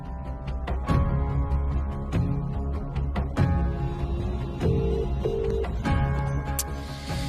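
A telephone rings in a Tamil TV drama scene, sounding as a couple of short repeated tonal ring bursts over a steady background of music and room sound.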